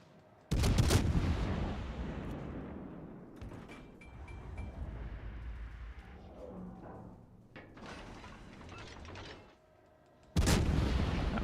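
Heavy naval artillery salvos boom out in World of Warships: Legends, two loud sharp blasts several seconds apart with rumbling echoes and distant firing in between.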